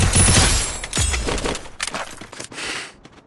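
UMP submachine gun fire in the Free Fire game during a ranked match, several loud cracking bursts up close that thin out into scattered shots and a trailing crackle.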